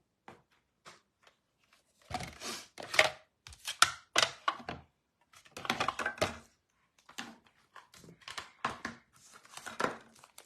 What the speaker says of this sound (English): And then we're gonna bring in our die cutting machine and do some die cutting.